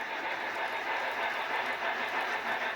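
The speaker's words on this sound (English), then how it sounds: "Got my little work train out." A small model railroad work train rolls along handmade track with laser-cut ties, giving a steady, even running hiss and rumble that stays constant for the whole few seconds, close and alone.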